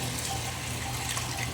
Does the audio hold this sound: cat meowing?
no